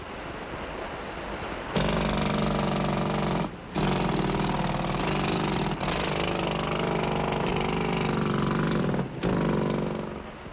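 Heavy coal mining machinery roars in a loud, continuous drone that dips briefly twice before surging back, dense and unbroken.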